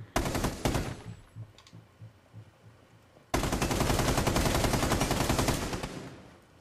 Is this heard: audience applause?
no